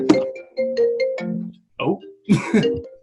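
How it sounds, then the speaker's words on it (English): Phone ringtone playing loudly through a connected computer during a podcast, a melodic electronic tune in two bursts, with a throat clear and cough between them. "It's connected to my computer and it's ringing through the whole thing, even though I've got the phone on silent."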